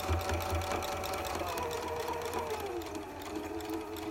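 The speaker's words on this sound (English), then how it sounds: "And then you're gonna sew it up all the way down, 1/4 inch seam" A sewing machine runs steadily down a quarter-inch quilt seam on a curved piece, a close, continuous whirring hum with rapid needle rhythm throughout and no talking.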